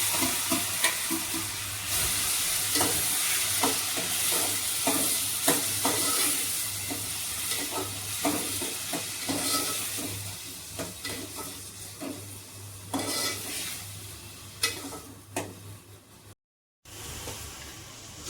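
Chopped onion, tomato and capsicum fry in melted butter for pav bhaji, a continuous crackling sizzle broken by repeated scraping stirs of a spatula against the pan, with one brief dropout near the end.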